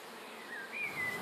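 A steady buzzing drone of honeybees at hives in Schwabing, Munich, moderately close, continuing throughout with a faint rise in intensity.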